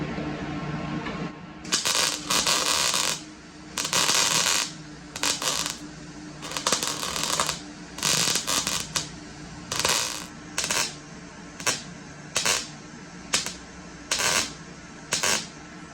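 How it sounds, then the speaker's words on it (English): Metal is tack welded in a run of short, harsh crackling bursts, each lasting about a second and separated by brief pauses. The bursts are close and loud, with a quieter background hum between them. "got to tack weld it into place, and I'm going to try to get this all filled in, get it to weld all the way through"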